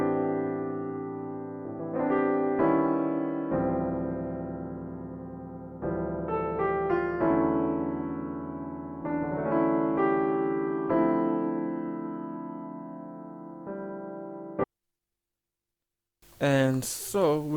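Layered grand piano using the M3 Recording Grand Piano preset plays a slow, soulful chord progression of sustained chords, then stops before a brief noisy burst at the end.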